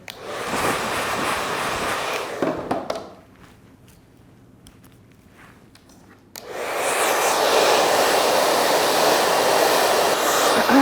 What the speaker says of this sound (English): I'm doing my best not to touch the dryer to my hair. These dryers are hot.